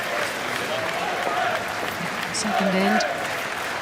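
Crowd applauding at the men's final of the 2013 European Curling Championships between Norway and Switzerland, steady clapping throughout with commentators talking over it.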